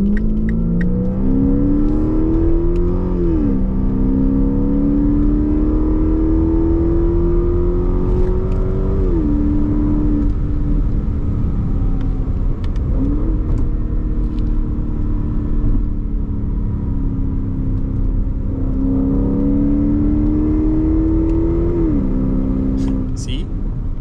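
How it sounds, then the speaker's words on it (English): Car fitted with a ZF 6-speed transmission accelerating hard at full throttle in third gear, its engine note climbing steadily with brief dips at each change, loud and continuous close by, with talk over it. "I floor it again in third gear."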